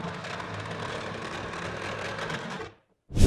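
A power driver running long screws through a built-in cabinet into wall studs, heard as a steady close motor whir lasting under three seconds, then a brief silence and a sudden loud knock.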